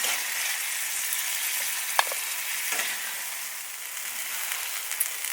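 Steak sizzling in a pan inside a hot tent during snowy camping, a loud, close, even hiss with a couple of brief clinks from handling, no voices.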